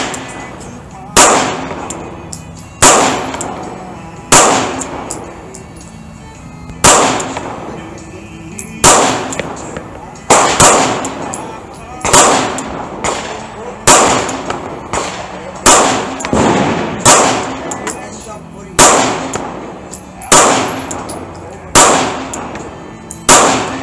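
A SAR9 polymer pistol fires hollow-point rounds in a long string of loud, sharp, close shots, spaced one to two seconds apart, with occasional metallic clinks between them.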